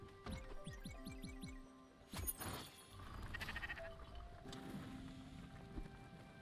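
Sheep bleating in the video game Spiritfarer: a quick run of short, repeated bleats near the start, followed by mixed game sounds, splashes and shimmering tones at moderate volume.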